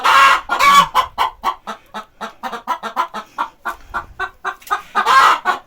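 Hens clucking just behind a wall in a backyard coop, a steady run of loud, close, rhythmic clucks and cackles with brief louder squawks, no talking over them.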